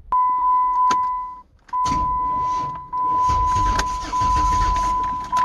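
A Dodge Nitro 4.0 V6 starter cranks the engine in several short bursts of loud mechanical churning, broken by brief pauses, while a steady warning chime sounds throughout.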